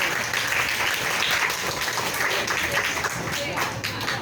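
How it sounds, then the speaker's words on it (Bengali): A seventh-grade class claps for a student during a peer teaching lesson, steady overlapping handclaps filling the room at an even level from start to finish, with some voices faintly mixed in. "ভেরি গুড সবাই হাততালি দিতে হবে"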